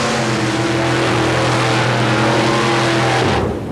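A paddle-tire mud racing vehicle, the Weekend Warrior, roars loudly and steadily through a run at a 1990 Bayou George, Florida mud race, its engine note holding strong before cutting off abruptly near the end.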